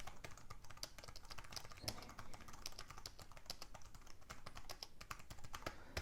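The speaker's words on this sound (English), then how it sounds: "Let me just try typing." Fast, steady typing on a cheap Arteck keyboard, dense close-up key clacks and taps running continuously with no talking.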